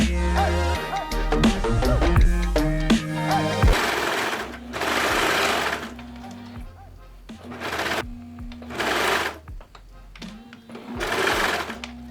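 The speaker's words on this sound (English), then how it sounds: "we're going to stitch the side seams together" Sewing machine stitching the side seams of a cowl neck top: loud, close mechanical whirring in several bursts, one longer run and then shorter stop-start runs with brief pauses between.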